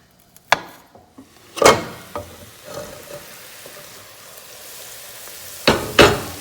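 A spoon scrapes and knocks around a pot of bacon and onions frying, with a few sharp clacks spaced over a soft, steady sizzle, close and fairly loud.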